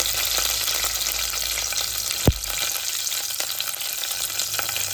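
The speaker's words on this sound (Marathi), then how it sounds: "लसूण परतला, कढीपत्त्याची 10-12 पाने टाकायची." Curry leaves and browned garlic fry in hot oil, giving a steady, dense sizzle that stays close and even throughout. A single sharp clack of a spoon or pan cuts in about midway, and there are no voices.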